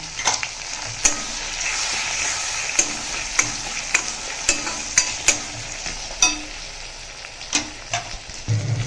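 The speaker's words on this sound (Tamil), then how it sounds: "நல்லா வதங்கட்டும்" Eggplant sautéing in a pan for pepper kuzhambu, with a continuous hissing sizzle broken by irregular sharp scrapes and taps of a spatula stirring, close and fairly loud.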